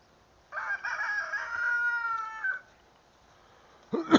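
A rooster crows once, a long drawn-out call close by after heavy overnight rain, followed by quiet and a brief cluck or rustle at the end.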